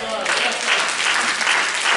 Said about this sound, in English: If you believe it, you ought to clap your hands.